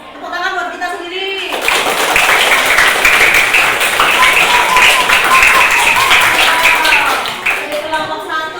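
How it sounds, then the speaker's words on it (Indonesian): A classroom of students bursts into sustained applause after group presentations, loud dense clapping running several seconds and tapering at the end, with a teacher's voice speaking before it starts. "Tepuk tangan buat kita sendiri."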